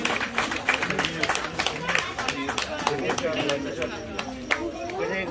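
Audience clapping for an honoured guest at a Ganesh Navratri colony welfare association event, a steady patter of many hands mixed with crowd chatter and talk.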